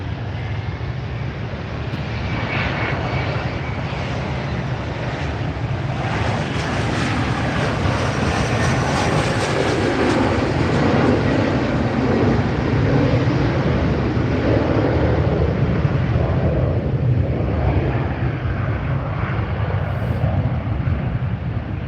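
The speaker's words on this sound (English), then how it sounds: "Southwest taking off from 24 left right there for you" Southwest airliner taking off from runway 24 Left at LAX, a loud, steady jet roar that holds throughout with no one speaking.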